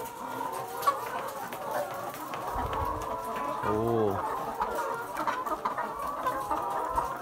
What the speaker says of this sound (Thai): โอ้นี่ครับไก่พันไข่ครับ